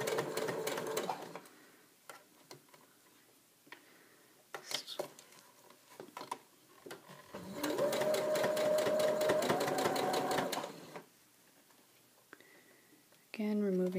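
Sewing machine stitching fabric for a memory bear, running in a sustained loud burst in the middle with shorter stitching runs and pauses around it, fabric being handled in between.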